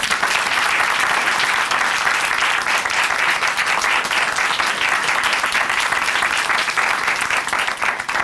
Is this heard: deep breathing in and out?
no